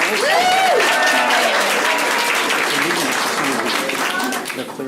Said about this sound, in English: Can we just give everyone a round of applause for showing up?